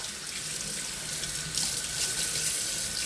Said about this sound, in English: I'm gonna rinse this salmon knife off